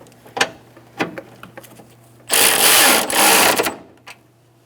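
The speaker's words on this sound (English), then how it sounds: "now we're going to go on the other side and tighten those down as well" A ratchet tightens the cooling fan assembly bolts on a 2012-2018 Ford Focus, with a few sharp separate clicks, then a loud, dense, fast run of ratcheting lasting about a second, ending in a few last clicks.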